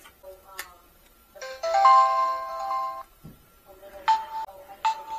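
A short electronic setup chime melody from a Reolink Argus Pan Tilt outdoor WiFi security camera, followed by a couple of brief beeping tones, clear and close with a faint click beforehand.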